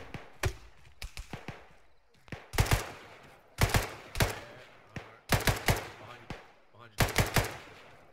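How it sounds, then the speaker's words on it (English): Gunfire in Arma 3 cracks in repeated short bursts and single shots, fairly close, spread across the stretch with brief gaps between volleys; no speech is heard over it. "Er yeah, shots north."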